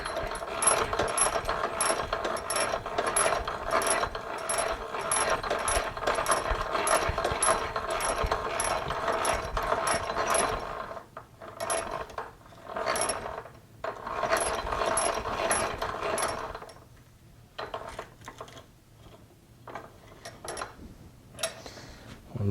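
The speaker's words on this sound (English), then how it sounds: "Now I just start drilling." A hand-cranked manual post drill bores a hole, producing rapid repetitive ratcheting clicks and wooden creaks close by, pausing briefly midway and resuming in shorter bursts.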